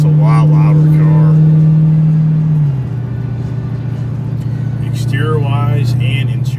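Ford Mustang GT500 V8 engine heard from close by, a loud steady rumbling drone that drops in pitch midway as the revs ease off, with a brief voice over it.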